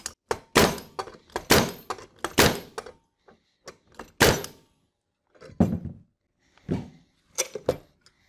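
A Flexco powered rivet driver sets rivets on SR rivet hinged belt fasteners, giving a series of loud, close, percussive thunks and bursts in irregular groups, separated by short pauses, with no voices.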